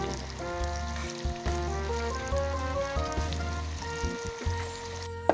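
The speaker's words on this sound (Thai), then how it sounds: "ปลาจีน ชุบแป้งทอดเก็ดสวยๆเหลือง" Battered Chinese fish frying in oil gives a continuous soft sizzle, partly buried beneath steady tonal background music, with a sharp click at the very end.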